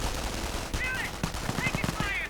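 Rapid gunfire crackles from snipers and MP40 submachine guns in a WWII strategy video game, several quick bursts over a busy battle backdrop with a commentator's voice running over it.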